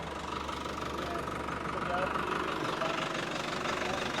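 A 60 HP tractor with a super seeder attached runs at a steady, even drone with a low knocking throb at a farmers' fair, while people talk over it.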